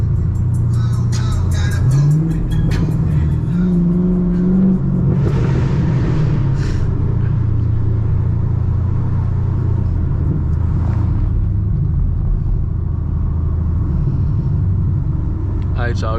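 A loud Chevrolet Camaro SS exhaust rumbles deep and steady during a night drive, with rising revs early on and voices talking over the engine throughout.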